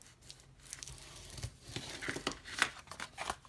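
Scored paper cardstock is folded down for a stationery box, giving soft crinkling and crisp creasing rustles in quick, irregular bursts, faint and close with no talk.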